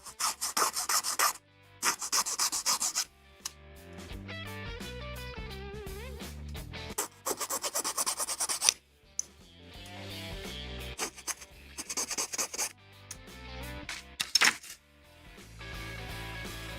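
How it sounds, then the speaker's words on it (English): A file rasps away nubs on a 1/144 HG Bandai Gundam plastic kit part in short, close scraping bursts, separated by quieter stretches where tonal music plays in the background. "Follow the curve when filing, well, removing nubs on the curve."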